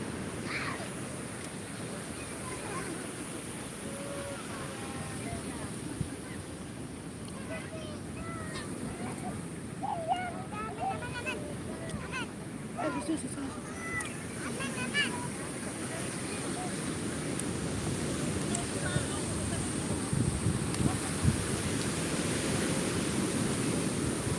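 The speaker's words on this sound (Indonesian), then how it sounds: "Nikmati deburan ombak." Ocean waves breaking on a beach, a continuous low rumbling wash that builds slightly louder toward the end, with faint scattered voices and other noises in the background.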